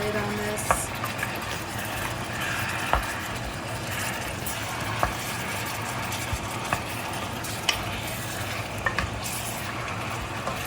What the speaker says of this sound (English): Mixing to combine all the ingredients, the seasoning, and put a lid on this.